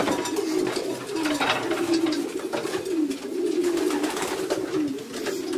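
Pigeons in a loft coo over and over in low, throaty repeated calls, close and moderately loud, with faint rustling and no speech.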